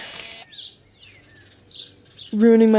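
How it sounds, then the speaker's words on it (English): Birds near the water give several thin chirps and tweets at a moderate distance, then a louder, close burst of song near the end, heard at a fishing bank. "those birds over there are ruining my"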